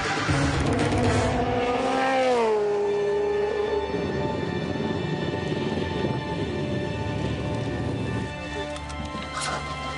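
A V8 Supercar racing a lap on a circuit, its engine roaring loudly and continuously and rising and falling in pitch through gear changes and corners.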